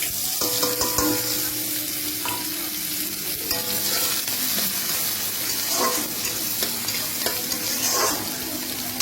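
Onion dropped into hot oil in a home kitchen pan, just after eggplant frying, sizzles steadily and loudly while being stirred, with no talking.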